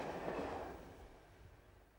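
Trains rumble through a busy Swiss railway station in the Emmental where the SBB and EBT lines meet, a low rolling clatter that is strongest at first and then slowly fades.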